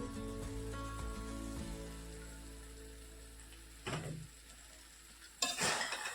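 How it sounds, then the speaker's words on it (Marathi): Chilli paneer mixture with spring onion greens is sautéed in a pan, giving a soft sizzle with a steady hum, and a couple of brief scraping stirs toward the end. "दोन मिनटासाठी आपण हे सगळं परतून घेणार आहे"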